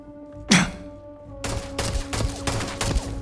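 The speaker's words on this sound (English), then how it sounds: "Why is everybody shooting?" Gunfire in the Starfield video game: one loud sharp shot, then after a pause a rapid run of repeated shots in quick bursts, close and punchy, with no talking.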